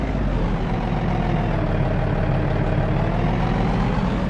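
A Volvo VNL 730 truck in American Truck Simulator runs its diesel engine, a steady low rumble that holds loud and close throughout with no speech.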